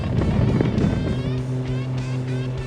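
An A2A Aerostar 600 twin-engine aircraft accelerates for takeoff in Microsoft Flight Simulator, its engines a loud, steady droning roar with layered tonal hum held throughout.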